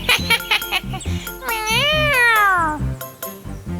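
A cartoon cat meows in a long, drawn-out, rising-then-falling cry, framed by short tinkling jingles and bouncy music in a Hindi kids' animation.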